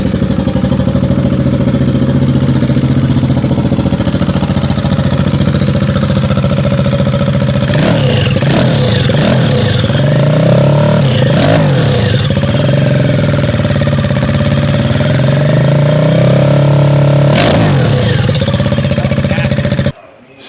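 A motorcycle engine running loud and close, settling into a steady idle with several sharp revs rising and falling in the middle; faint talk can be made out under it.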